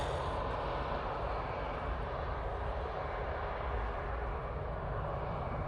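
An EasyJet airliner at Manchester Airport, a faint, steady, broad engine rumble heard from a distance and continuing evenly throughout, with no voices.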